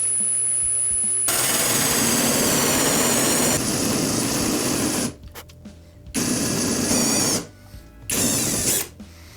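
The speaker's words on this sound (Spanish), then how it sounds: "vamos a agujerear." Power drill boring holes for concealed cup hinges in cabinet work, a loud continuous whirring grind that cuts off and restarts in several bursts, close up with no talking.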